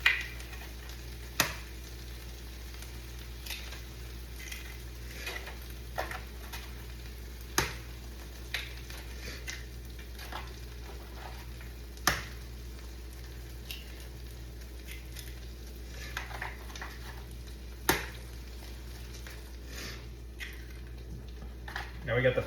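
Chorizo and five eggs cook together in a pan with a low, steady sizzle. Sharp spatula scrapes and taps recur every few seconds as everything is stirred. A person talks at times over the cooking.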